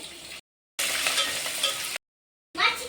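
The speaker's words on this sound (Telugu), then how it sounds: "కరివేపాకు, ఎర్రగడ్డలు. ఇప్పుడు కాసేపు ఆగాలి, వేగాలి." Curry leaves, dried chillies and onions fry in hot oil for a tempering, with a bright, steady sizzle heard up close in three short stretches broken by sudden silences.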